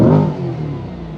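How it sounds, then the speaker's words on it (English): A 2020 C8 Corvette engine revs hard in track mode, a loud, fast-climbing burst at the start that settles quickly into a sustained, slightly quieter drone. "it's such a fast revving, high revving engine"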